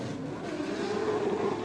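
Drift cars competing in a tandem battle at a national drift championship final, a sustained engine roar climbing in pitch with a hiss of tire smoke, heard at a moderate distance.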